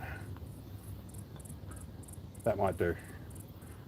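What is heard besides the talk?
cicadas buzzing outdoors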